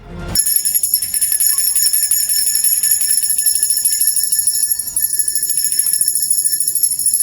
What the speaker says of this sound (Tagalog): malakas na tunog na may mataas na frequency, halimbawa, tunog ng kampana